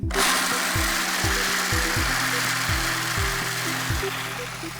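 A food processor runs steadily, whirring loudly as it blends Snickers-style filling into a paste, with a repeating rhythmic thump as the blade churns the thick mixture, alone without talk.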